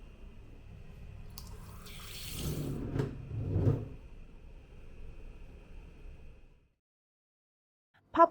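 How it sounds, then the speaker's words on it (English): A rainfall shower with strong water pressure runs in a guesthouse bathroom in Chiang Mai, a steady close hiss of falling water that swells slightly, then cuts off abruptly, followed by a brief click. "strong water pressure, a rainfall shower"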